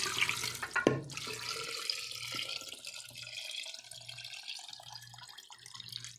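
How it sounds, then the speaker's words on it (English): About a gallon of filtered water pours into a container for making pineapple tepache, a continuous liquid rush and gurgle with a splash near the start, fairly quiet and close, with no talking. "we're gonna be pouring in about a gallon of filtered water in here"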